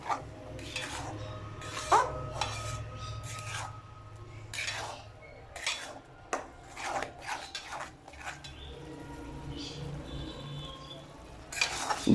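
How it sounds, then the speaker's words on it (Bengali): Coconut and jaggery mixture stirred in a pan over low heat for narkel naru, a spoon scraping repeatedly in uneven strokes, close and moderately loud with no voices. "ধীরে ধীরে আঁচ দিয়ে আমরা এটা নাড়াচাড়া করতে থাকব।"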